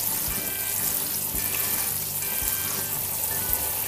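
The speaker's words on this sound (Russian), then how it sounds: "макароны откинуть на друшлаг, промыть их водой холодной" Steady running cold water pours continuously over pasta in a colander, with faint clinks and a few soft knocks underneath.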